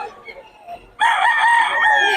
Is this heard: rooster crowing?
yes